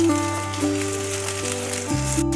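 Cooked rice hits hot oil, ghee and cumin in a pan, setting off a steady hissing sizzle with a few steady tones running underneath.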